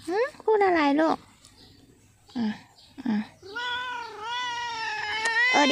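A cat with green eyes meows close up several times, drawn-out wavering cries with pauses in between, the last one long and rising, while someone talks softly nearby.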